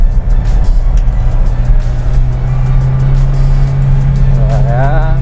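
A steady engine drone from an older Toyota Innova Venturer fitted with a power backdoor, driving in second gear, a loud constant low hum from inside the car.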